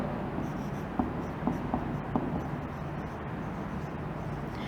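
Marker or chalk writing on a classroom board during an English grammar lesson, a few soft strokes and taps over steady room hiss, fairly faint with no talk.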